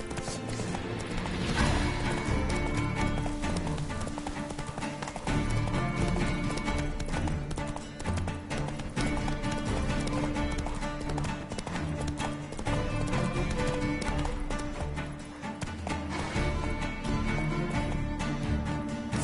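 Geralt's horse Roach gallops in The Witcher 3 video game, rapid hoofbeats running continuously under a busy, loud game soundtrack and effects.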